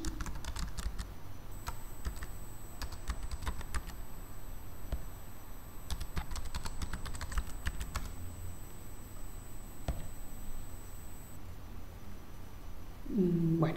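Steady bursts of typing on a computer keyboard during a login, close and clear with quick irregular key clicks running through most of the stretch, with no talk over them.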